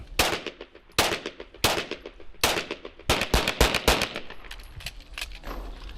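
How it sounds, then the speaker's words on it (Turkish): Police pistol fired in controlled shots at a target on an Antalya police range, sharp cracks in irregular groups with ringing tails between them, loud and close with no talking. "İlk hedefe kontrollü atış 5 adet."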